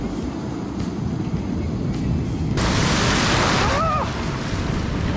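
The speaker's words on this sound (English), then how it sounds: "These waves are massive compared to when we were just down in SoCal." Large, powerful ocean waves crash on the Oregon coast, a broad roaring surf that builds and surges louder midway, with wind buffeting and faint background noise.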